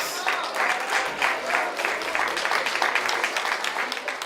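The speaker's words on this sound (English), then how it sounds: "Give them a round of applause." Audience applause at a Kwanzaa children's party, a crowd clapping steadily and fairly loudly throughout, dense overlapping claps with slight swells.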